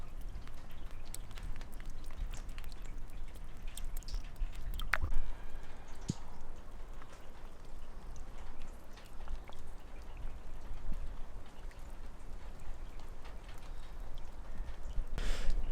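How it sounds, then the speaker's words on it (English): Rain drips onto a caravan on a wet, muddy day in South Burgundy, a steady close patter broken by scattered sharper drops, with no voices. "It's a rainy, mucky day here in South Burgundy."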